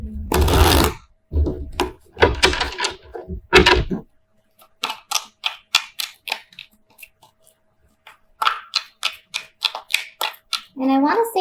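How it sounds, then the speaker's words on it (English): Tarot cards being shuffled during a love reading: after a stretch of talking, a long run of crisp, rhythmic card snaps and flicks follows, close and fairly loud, with a brief rustle at the end. "while I'm shuffling"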